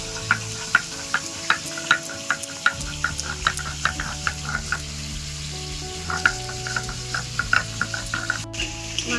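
A fish head fries crisp in a pan, a continuous close sizzle punctuated by frequent sharp spatters and pops in a quick irregular rhythm, with no voices.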